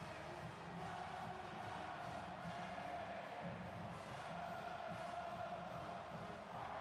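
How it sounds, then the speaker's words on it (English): A distant, steady stadium crowd roar fills the whole stretch, a dense wash of many voices shouting at once at a Cincinnati at Tennessee football game. "You can hear the crowd going absolutely nuts, Idesh."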